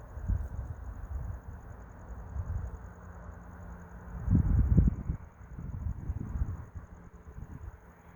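Steady wind rumbles and buffets against the microphone, with low gusts swelling louder in the middle and again near the end.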